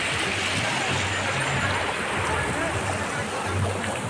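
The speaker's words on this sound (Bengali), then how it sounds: "এত জলের স্রোত।" A fast-flowing outdoor stream at a picnic spot rushes loudly and steadily throughout, with voices faintly audible beneath the constant roar of the water.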